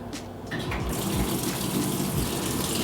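A washing machine runs a hand wash cycle with a puffer jacket inside, giving a steady rushing and gushing of water that fills the drum at close range, with no voices.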